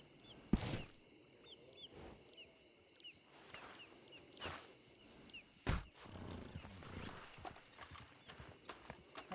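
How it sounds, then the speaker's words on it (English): Hooves clip-clop in uneven steps across a Red Dead Redemption 2 roleplay world, fairly faint and mid-distance, with sharp knocks and rustles between them and quiet game ambience behind. "I hear a horse."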